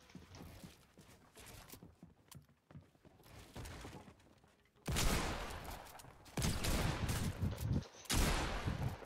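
Fortnite Battle Royale gunfire: bursts of broadband shots with a dense, loud volley in the second half, near and punchy over busy game noise.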